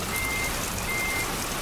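A heavy truck reversing in Euro Truck Simulator 2, a steady high beeping tone running continuously through a dense, noisy background rumble.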